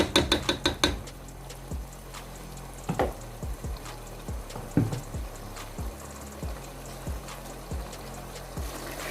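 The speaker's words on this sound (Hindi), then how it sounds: "इसके अंदर से मैं पानी निकाल लूँगी।" Water drained from a pot of boiled noodles in a kitchen while making vegetable noodles, giving a run of clattering knocks and splashes, several quick sharp hits at first and then scattered metallic taps over a steady wet wash. No one speaks.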